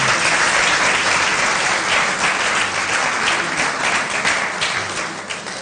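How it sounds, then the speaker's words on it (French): Loud, sustained audience applause in a TV show studio, an even, dense roar of clapping that holds steady and then eases off slightly at the end. "on peut applaudir s'il vous plaît"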